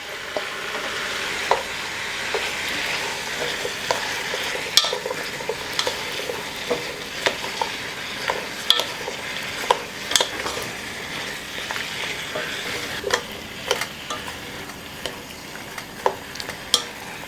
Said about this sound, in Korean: 이렇게 살짝 익었을 때 무도 같이 넣고 볶을게요.